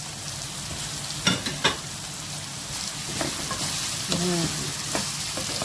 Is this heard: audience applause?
no